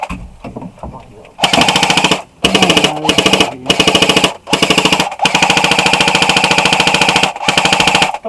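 Airsoft guns fire in long rapid bursts at close range during a tree house skirmish, loud chattering volleys broken by short pauses, with players talking around them.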